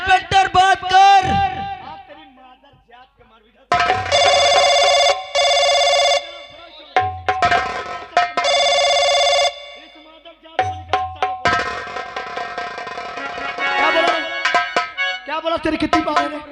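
A telephone ringing during a live stage play, sounding as long, loud electronic ring bursts that repeat between stretches of shouted dialogue, with a harmonium-like musical accompaniment in places.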